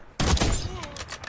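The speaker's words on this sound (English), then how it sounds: "Here's some sniper gameplay from Tessie." A single loud sniper rifle shot from Black Ops 6 gameplay cracks hard at the start, then rings out in a long echoing tail, with faint game noises and a voice murmuring underneath.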